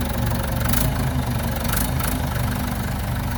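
An old Ford backhoe engine runs at a steady, loud chug, a continuous low idling rumble with slight knocking and no pauses or voices.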